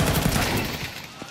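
AK rifle fire rings out during a Counter-Strike match at the PGL Astana 2025 semifinals, a short rapid burst of close gunshots packed into about a second.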